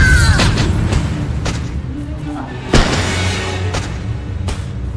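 A Bombarda spell explodes in Hogwarts Legacy, one heavy close boom standing out midway amid earlier thumps and rumbling game sounds, with a low drone continuing after the blast.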